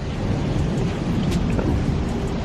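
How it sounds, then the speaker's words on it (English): Heavy rain pouring outside an apartment in Jamaica, a dense, steady broadband hiss with low rumbling, loud and continuous without speech. "it's raining outside, heavier than before"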